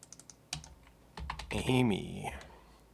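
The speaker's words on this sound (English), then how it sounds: "do you like typing noises?" Keys clatter on a computer keyboard in quick, uneven bursts of typing, close and fairly quiet, with someone talking over part of it.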